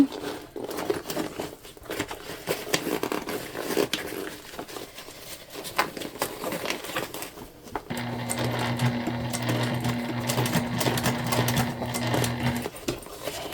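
A sewing machine stitches a leopard-print tote bag in steady bursts. From about eight seconds it settles into a louder, sustained whir with a steady hum, close and alone, with faint handling rustle around it.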